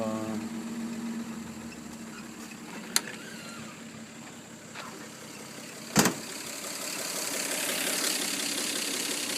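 A 1949 Chevrolet Deluxe four-door's 216 six-cylinder engine idles with a steady, low, fairly quiet hum, broken by a couple of sharp clicks partway through.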